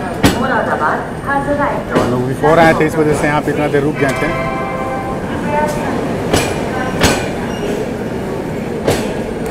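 The Seemanchal Express departs from platform 1 at Pandit Deen Dayal Upadhyaya Junction, with a low rumble, a few sharp rail clanks and faint wheel squeal, while someone talks over it up close.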